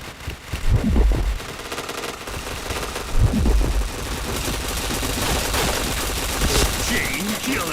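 Rapid gunfire bursts from the online shooter Point Blank, loud low thumps clustered near the start and again around the middle, with continuous game noise and some background voices in between.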